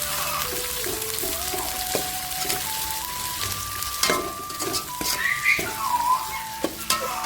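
Onion and green chillies sizzle steadily in a pan while cooking for banana flower biryani, a close continuous frying hiss with occasional stirring clinks and no talking.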